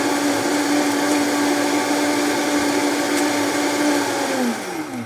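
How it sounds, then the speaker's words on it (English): Vitamix blender blending a protein shake, a loud steady motor whine with churning liquid that runs continuously close to the mic, then eases down slightly in pitch near the end. "I've got all my ingredients in my Vitamix. I'm going to turn it on."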